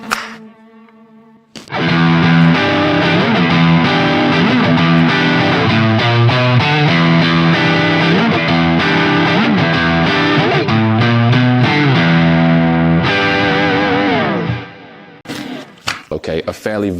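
Heavily distorted PRS SE Custom 24 semi-hollow body electric guitar on its coil pickup plays loud, chunky chords and riffs, sustained and aggressive, after a brief quiet opening and before a few scattered notes at the end.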